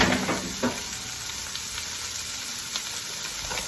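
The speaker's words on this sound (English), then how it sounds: "So, get the onions in the pan." Onions frying in a pan give a continuous close crackling sizzle, with a few faint stirring knocks scattered through and no voices.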